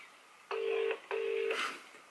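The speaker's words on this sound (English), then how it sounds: "So we're going to ring Rebecca first and see if she picks up" A telephone rings on an outgoing call, two long electronic ring tones separated by a short gap, fairly quiet, followed by a brief burst of faint background sound.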